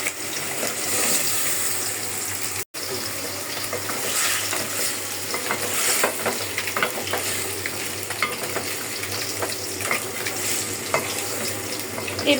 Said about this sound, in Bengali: গোল গোল করে খালি কেটে নিলাম বেগুনের মতো। করলা ভাজা করব।